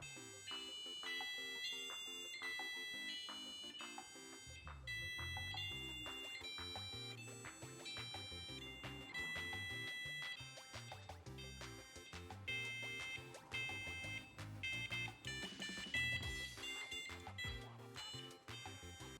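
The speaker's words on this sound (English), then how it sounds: "When you move the joystick around like this, it plays the notes of do, re, mi, fa, so, la, ti, do, depending on the position" A passive buzzer steered by a starter-kit joystick beeps out a simple tune, its shrill tones stepping through do-re-mi pitches in steady note after note over a pulsing electronic backing, loud and without talk.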